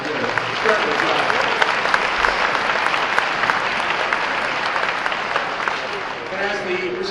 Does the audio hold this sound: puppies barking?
no